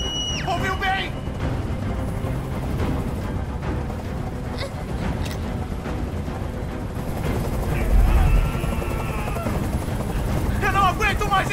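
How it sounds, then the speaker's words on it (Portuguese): Helicopter hovering nearby in the video game Detroit Become Human, a continuous loud rotor rumble under tense in-game dialogue, with sharp bursts scattered throughout. "Esse helicóptero tem que sair daqui agora!"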